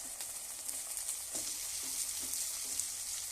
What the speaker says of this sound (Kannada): ಒಗ್ಗರಣೆ ಆಗಿದ್ದಾರೆ ಅವರಿಕನ ಬೇಯಿಸಿಟ್ಟಿದ್ದೀನಿ ಬದನೇಕಾಯಿ ಹಾಕ್ತೀನಿ